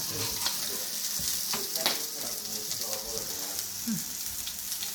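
Large tilapia grill on an outdoor Thai barbecue, giving a soft, steady crackle and sizzle like light rain, with faint scattered pops. The sound stays low and even throughout.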